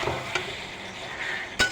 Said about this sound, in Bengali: এরপরে ভালো করে নাড়িয়ে চাড়িয়ে নেব।